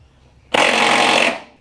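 A power tool, likely an impact wrench, rattles in one loud, steady burst of about three-quarters of a second while removing bolts from a Mitsubishi Evo 8, close by, then stops.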